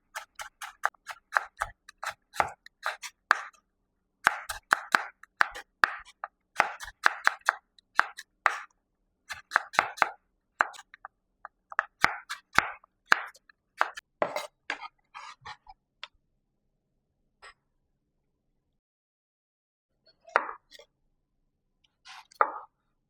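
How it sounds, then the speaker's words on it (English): A knife cuts vegetables into julienne strips on a board for Jamaican escovitch fish: rapid, crisp chopping taps in quick bursts, close and clear, with pauses between runs and a few scattered taps near the end. "Now I'm going to cut them in julienne strips."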